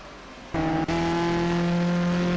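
Race car engines in the Grand Prix 4 game at the Italian round near the Parabolica, cars running side by side: a loud, steady high engine whine cuts in abruptly and holds, close and continuous, with no talk.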